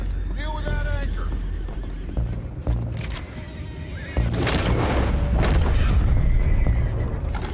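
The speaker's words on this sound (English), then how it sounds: "Horses down below." Horses in Red Dead Redemption 2 clop and whinny amid a busy action scene, with heavy booms and voices talking over the hooves.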